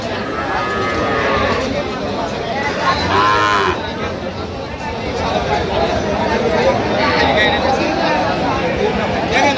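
A cow moos loudly at a busy village cattle market, one long drawn-out low call rising over constant crowd chatter and nearby talk.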